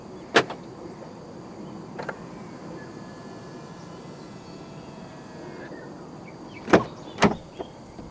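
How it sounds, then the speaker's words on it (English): A Volkswagen Tiguan Allspace locks from a touch on the front door handle, giving a sharp click near the start, another faint one, then two quick clunks of the locks close by in a quiet setting. "To lock the car, press the indentation on any of the front door handles."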